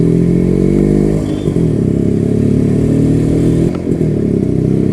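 Restored 1981 Yezdi Classic 250 motorcycle engine running steadily up close, a loud, even low thrum with metallic clatter, dipping briefly once before holding its rhythm.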